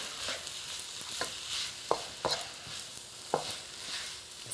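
Stir-frying in a wok after oyster sauce is added, with a steady sizzle under several sharp metallic scrapes and clanks of the spatula at irregular intervals, close and moderately quiet.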